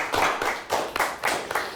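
A small studio audience on a high school quiz show claps for a team from Cheboygan, a light uneven patter of hands in several quick bursts, close and fairly quiet with no talk.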